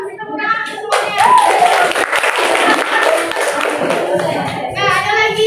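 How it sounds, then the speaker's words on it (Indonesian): Audience of students clapping after a classroom counseling activity on managing emotions: a burst of applause rises after a moment of talk, with voices and children's chatter mixed over the clapping, then fading into more talk. "kasih tepuk tangan semuanya"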